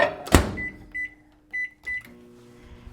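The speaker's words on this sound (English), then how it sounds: "heat it up in the microwave for like, till it's melted" A click and thump, then a microwave oven's short electronic beeps sounding several times as it is set running to melt food, close by in a quiet room.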